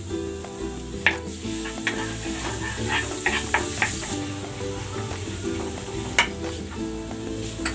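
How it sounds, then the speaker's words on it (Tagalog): Garlic sautéing in a pan for fried rice, a steady close sizzle with repeated scraping stirs and taps of a spatula, over faint background music. "Magigisa na ako ng bawang"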